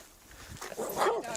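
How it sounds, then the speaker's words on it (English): A dog barks at a lakeside campground in the evening, a few close, sharp barks and yips mixed with a man's raised, agitated voice. "Get that fucking dog away from me."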